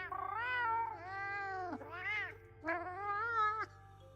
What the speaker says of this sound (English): let's get a good cat voice for him